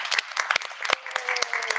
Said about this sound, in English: Let's give Mr. Smythe a round of applause.